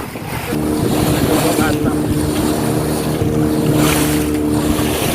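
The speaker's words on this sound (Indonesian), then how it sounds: "Agak gede ya ombaknya ini." Loud ocean waves surge and wash continuously under the steady drone of a boat engine off Ciletuh, Indonesia, with wind noise throughout.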